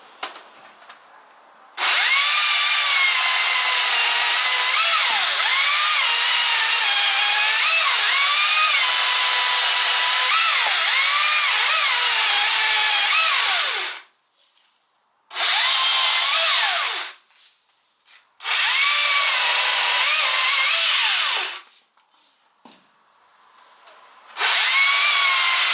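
A 40-volt electric chainsaw with a 35 cm bar and 1.3 mm groove cuts wood, running in a loud, steady whine for a long first cut, then several shorter cuts separated by silent gaps.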